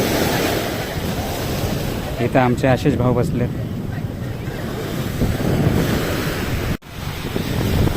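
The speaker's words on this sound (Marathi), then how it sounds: "पाहू कशा लाटा या लागल्यात" Sea waves break along the Mumbai shore in a steady, loud wash with gusting wind, while someone talks over it partway through.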